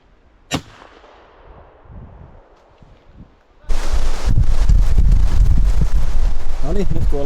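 Wind gusts outdoors in the woods during a pigeon hunt, rumbling hard against the microphone in a loud sustained buffeting after a quieter start with a single sharp knock. Voices talk faintly underneath.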